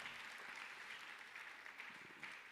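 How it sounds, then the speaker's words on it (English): Faint, distant applause from an audience at an opening ceremony, a steady soft patter of many hands that holds evenly throughout. "Can we put our hands together one more time?"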